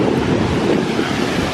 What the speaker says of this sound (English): very, very choppy today because of the wind and the hurricane